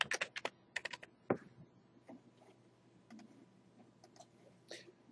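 A computer keyboard is typed on in quick bursts of crisp, fairly close keystrokes, then a few scattered taps spaced apart, with no talk.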